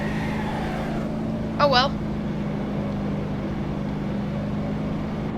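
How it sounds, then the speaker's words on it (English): Car engine in the driving game BeamNG.Drive, lapping the Top Gear test track with an automatic transmission, a steady low engine drone holding at low revs throughout, with someone briefly speaking over it. "You're revving too low, automatic transmission."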